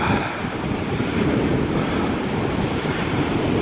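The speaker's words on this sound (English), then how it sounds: "These waves are much bigger and much higher up," Storm waves surging at Watchet harbour, a loud continuous broadband roar of surf mixed with heavy wind buffeting, steady throughout with no voices.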